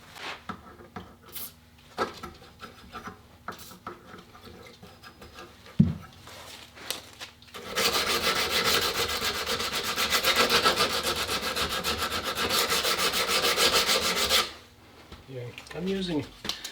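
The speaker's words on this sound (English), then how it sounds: "I'm using 100 grit on this because the rust is fairly deep" Rusty receiver of a 1915 firearm being sanded by hand with 100 grit sandpaper: scattered knocks and scrapes at first, then about seven seconds of steady rapid rubbing strokes, close, with faint talk.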